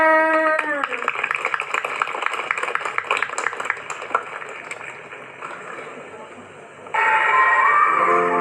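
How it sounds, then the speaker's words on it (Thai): Scattered clapping from a small audience at a school performance in Thailand over several seconds, fading toward the end before a sustained tonal sound cuts in. "เสียงปรบมือให้หน่อยจ้า"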